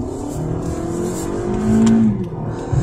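A 2021 Lexus ES250 AWD accelerates at full throttle, its engine note droning steadily and swelling briefly as it pulls hard, heard from inside the cabin with no talk.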